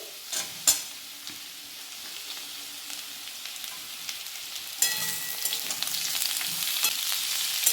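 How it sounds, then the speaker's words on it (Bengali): Potatoes and onions fry in a pan with a steady close hiss; a couple of utensil knocks come early, and the sizzle grows brighter and louder partway through as more goes into the hot oil. "আলুগুলো খুব ভালো করে ভেজে নিয়েছি, এবার পেঁয়াজগুলো দিয়ে দিচ্ছি"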